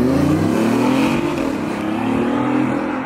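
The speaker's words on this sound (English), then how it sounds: "You have to drive off like that." A car pulls away under hard acceleration, its engine loud and close with a rising, steady roar throughout the short stretch.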